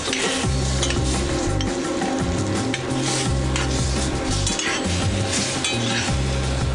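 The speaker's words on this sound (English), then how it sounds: "So we're going to stir this up. And as it comes to a simmer, we're almost done here." A sauce coming to a simmer in a restaurant kitchen pan, stirred with a utensil that clinks and scrapes against the metal over a steady sizzle, close and loud, with background music tones and no talking.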